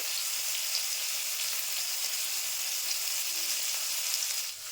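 Tomato, ginger and green chilli fry in a pan for a cauliflower and potato chop filling, giving a steady, close, continuous sizzle with no talk over it.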